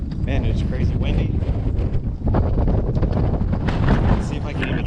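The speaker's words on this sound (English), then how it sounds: "Man, it's crazy windy." Heavy wind buffets the microphone throughout, a constant loud roaring rumble with gusty surges.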